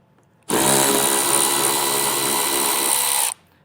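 A 10mm bolt on the bumper of a 2020 Jeep being backed out with a power tool, one steady whirring burst of about three seconds, loud and close, starting and stopping sharply over near silence.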